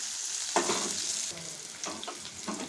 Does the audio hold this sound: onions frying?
yes